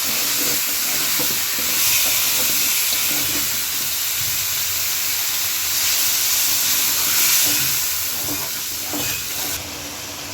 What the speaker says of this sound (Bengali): এখন আলু কষাই নিব।